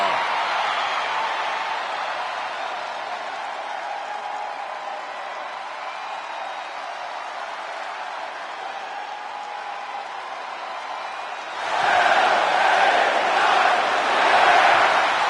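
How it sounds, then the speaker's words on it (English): Arena crowd noise in the WWE 2K26 wrestling video game, a steady broad roar of cheering that swells louder near the end as the audience reacts to a wrestler's entrance, with no talk over it. "this crowd, they just love them some LA Knight"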